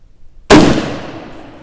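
A single loud, close rifle shot from an 1896 Krag-Jorgensen firing a handloaded round, a sharp crack followed by a decaying outdoor echo after a short quiet lead-in.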